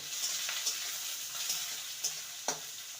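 Chopped onion fries lightly in a pan with a soft, steady sizzle, while a spatula clinks against the pan at a regular pace, about five times.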